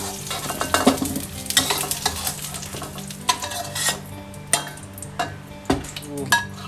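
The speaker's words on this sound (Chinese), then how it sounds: "这个蒜头就煎到两面有这种焦黄了" Garlic cloves fry in oil in a pan, a close crackling sizzle broken by repeated scraping and clinking of a metal spatula stirring against the pan.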